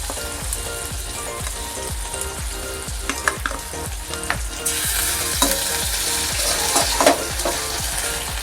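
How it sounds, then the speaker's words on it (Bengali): Chopped onions sizzle and crackle in hot oil in a pan while being fried for a Bengali potato-and-egg curry, with repeated stirring scrapes in a steady rhythm, close and continuous with no talk. "এবার ভালোভাবে ভেজে নেব।"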